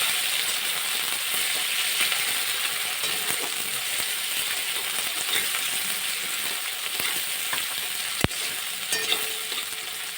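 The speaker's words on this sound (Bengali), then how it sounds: "পেঁয়াজটাকে ভালো করে দিয়ে একটু ভেজে নেব" Chopped onions fry in hot oil in a pan, a steady, dense sizzle running close and continuous throughout, with a sharp metallic clink near the end and a few light stirring scrapes.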